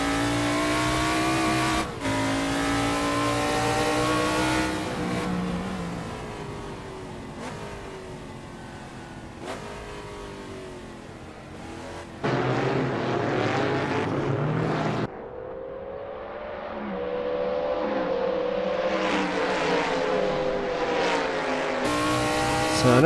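A Formula 5000 race car in Assetto Corsa howls through repeated full-throttle runs, its loud engine note climbing through gears with sharp shifts and braking drops, alone without talk.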